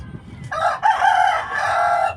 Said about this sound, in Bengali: আমি যেমন মোরগ ডাকতেছে